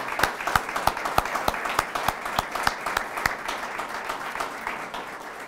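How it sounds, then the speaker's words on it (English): Audience applause at a university distinguished service reception, a moderate crowd clapping with a few distinct, rhythmic sharp claps standing out close by, gradually easing off. "one more round of applause for Shirley Palmer and Monica Murnan"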